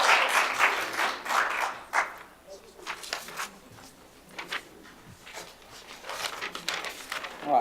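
Scattered applause from a small crowd at a county commission meeting after a unanimous vote, a burst of clapping that thins out and fades, then picks up briefly again near the end.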